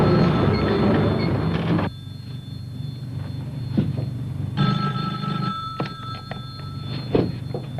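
A telephone rings inside a busy room during a Congolese theatre play, its tones clear over a steady rumble of background noise and murmuring.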